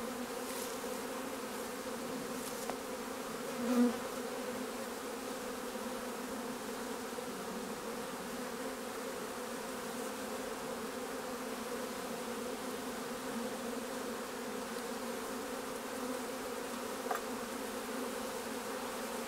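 Honeybees swarm around an open hive in a continuous layered drone, steady and moderately close, with an occasional louder pass of a single bee near the mic.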